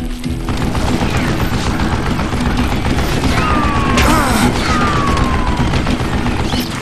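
Rapid fire from a mounted gun in the video game Call of Juarez Gunslinger, a loud, dense, unbroken barrage of shots and booms filling the whole stretch, with brief whistling tones sliding through the middle.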